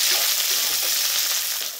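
A continuous close sizzle of peanuts, roasted gram, green chillies and coconut frying in oil, loud and even throughout before easing slightly at the end.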